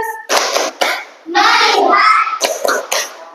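Children in a classroom doing the Tepuk fokus clapping game, with sharp rhythmic hand claps in short bursts mixed with a group of children chanting loudly together.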